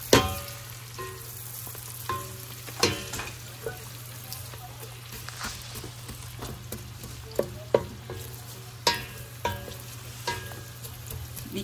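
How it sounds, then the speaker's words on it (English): Ginger, celery, green onion and yellow onion sizzling in a pan while being stirred, with a constant frying hiss broken by irregular scraping and clanking stir strokes, close by and without talk. "We're gonna stir."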